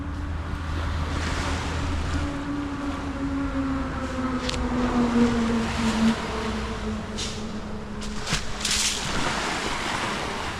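Gentle surf rolls in at quiet Bang Po Beach on Koh Samui, a steady wash of waves with wind buffeting the microphone and a faint low engine drone in the distance.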